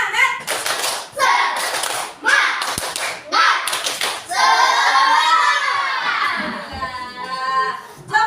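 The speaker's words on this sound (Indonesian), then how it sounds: "tepuk satu, tepuk satu, tepuk dua, tepuk tiga, ya, tepuk semangat" Children chant a rhythmic clapping cheer, tepuk semangat, in a classroom, with counted bursts of hand claps and taps between shouted sung phrases, a teacher's voice leading and kids joining in loudly.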